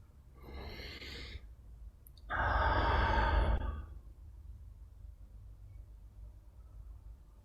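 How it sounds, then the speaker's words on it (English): Slow, deep breaths during a guided stretching and relaxation session: two long exhales, the second louder and fuller, alone with no talk, then quiet room tone. "So focus in your breathing as you stretch the body to relax."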